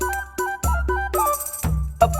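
Melodic electronic phone ringtone, a few bright repeating tone phrases with bursts and pauses over roughly two seconds, loud and close with no talking.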